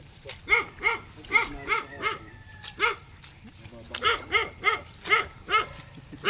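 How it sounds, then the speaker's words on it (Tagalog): A dog barks repeatedly outdoors at a flooded building site with hollow blocks and metal roofing sheets, loud and close, in quick bursts of two or three barks separated by short pauses. "May aso pala dito."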